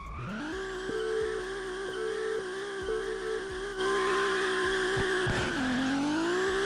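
Street racing cars in the Japanese-themed mobile racing game Kanjozoku, with a steady high engine drone, repeated gear-shift blips and a sustained tire squeal as the car drifts, loud and close with no talk.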